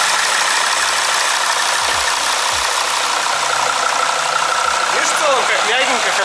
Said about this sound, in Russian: сейчас я заведу двигатель, посмотри, насколько ровно он работает